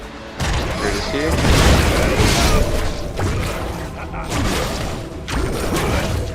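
Zac's ultimate ability in League of Legends, a series of heavy booming impacts and whooshing thuds, loud and close, repeating roughly every second or so over a rumbling low end.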